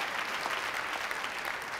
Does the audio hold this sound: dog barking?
no